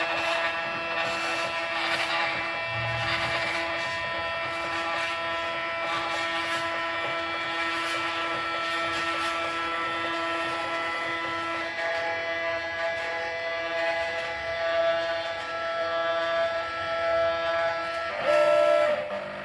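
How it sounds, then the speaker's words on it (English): A Raspberry Pi–controlled CNC machine homing its axes, a steady motor whine and tonal stepper hum with faint mechanical clicks that rises and shifts near the end. "I just selected the machine to be homed."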